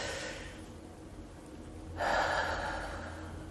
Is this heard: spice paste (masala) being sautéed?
no